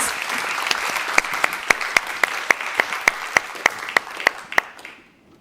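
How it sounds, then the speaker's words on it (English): Audience applause for panel speakers on stage at a conference on water, food and biodiversity: steady dense clapping from a roomful of people, with sharper claps standing out, lasting several seconds before fading away. "if we could give them all a really good round of applause"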